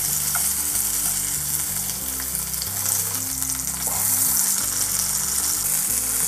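Garlic sizzles and fries steadily in butter in a pan, a constant close crackling hiss that carries on without pause and with no talk.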